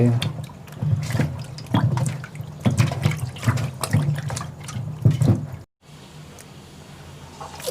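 Cut potatoes for homemade fries being rinsed in a basin, with running and splashing water and sloshing hand movements, loud and close, then a brief cut and a quieter slosh.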